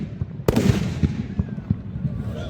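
Guns fire blanks in a police riot drill rehearsal, heard as one sharp loud crack followed by several lighter, evenly spaced pops with a faint echo outdoors. There is no speech.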